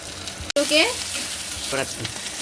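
Whole cinnamon, cloves, cardamom and cumin seeds hitting hot oil, a sharp burst of close sizzling after a brief cut, with a steady crackling fry and faint stirring.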